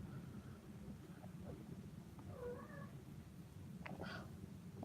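Kittens meow a few times in an attic-like space over a steady low rumbling background, with short harmonic cries around the middle and near the end, moderately faint.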